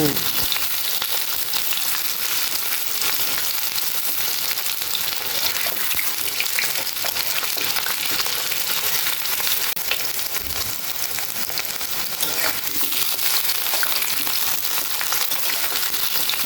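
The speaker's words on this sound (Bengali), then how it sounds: "এবার মাছের টুকরোগুলো এক এক করে সবগুলো কড়াইয়ে দিয়ে দেবো" Hilsa fish pieces fry in hot mustard oil in a wok, a loud, continuous sizzle and crackle that runs throughout, with occasional bubbling and stirring sounds and no talking.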